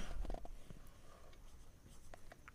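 A number is written on a board in a Class 6 maths lesson, with faint, quiet scratching strokes that come in short bursts and then trail off.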